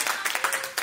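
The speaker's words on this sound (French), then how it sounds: "Je pense qu'on peut les applaudir" Short burst of audience clapping at a workshop on children and food transition, a small group producing several loud, uneven claps close by within a second.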